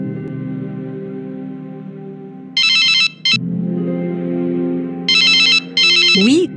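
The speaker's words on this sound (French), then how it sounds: "mon téléphone ne faisait que sonner" A mobile phone ringtone sounds over soft background music. It comes in repeated bursts of a bright electronic trill, loud and close, with short gaps between them.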